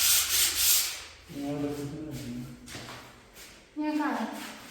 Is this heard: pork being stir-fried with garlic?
no